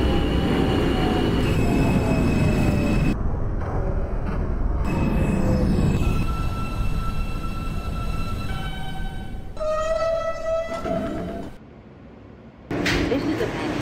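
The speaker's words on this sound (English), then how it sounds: "This is a Manhattan-bound J local train." Simulated J local subway train in OpenBVE running along the track, with a rumbling run, pitched motor whines and squeals rising and falling, brief gaps in the noise, and a voice speaking over it.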